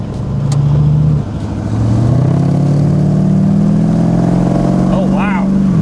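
A 1932 Ford 5-window coupe hot rod accelerates hard, its engine note loud and close, droning low and then climbing steadily in pitch as the car pulls away, heard from inside the cabin.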